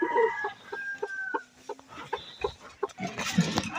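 Hens, some with newly hatched chicks, cluck in short repeated bursts close by on a small farm, with a few longer calls mixed in.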